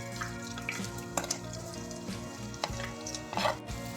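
Sliced onions with bay leaf, green and black cardamom, cloves and cinnamon fry in hot oil for a dhaba-style paneer dal, giving a quiet, steady sizzle with a few light clicks of a spoon against the pan.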